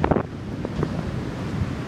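Ocean waves and gusty wind on a seaside walk, a rough rushing surf noise with wind buffeting the microphone, fairly close and steady over a couple of seconds, no talking.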